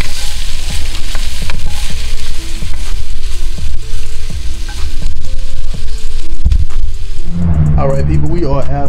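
Onions sizzle in a pan while frying until translucent, a continuous close crackle with clinks of a utensil stirring, and a person starts talking at the end.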